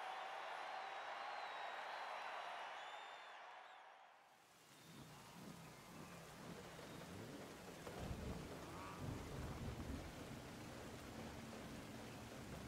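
Rain and rolling thunder in the racing game Forza Horizon 5, a steady hiss of downpour with low rumbling thunder building after a brief lull, continuous and fairly loud.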